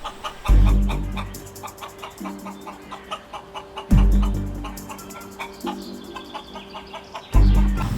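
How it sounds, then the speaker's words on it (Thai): Two chickens walking and clucking nearby in repeated soft clucks, punctuated by heavy low thuds and clicking sounds in the background. "เฮ้ยไก่มาจากไหนเนี่ย"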